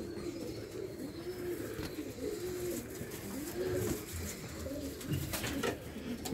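Racing pigeons in a loft coo repeatedly, with soft, rolling, throaty calls rising and falling over steady background noise at moderate distance.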